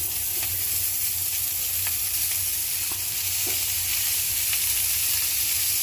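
Onion, green chili and garlic frying in a pan as coriander leaves go in, giving a loud, steady sizzle and hiss throughout with a few faint scrapes and no voices.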